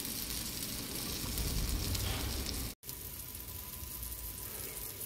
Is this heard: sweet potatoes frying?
yes